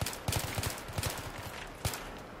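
Rapid bursts of automatic gunfire from a Battlefield 3 co-op mission, several clustered volleys and single loud shots close by, with no talk over them.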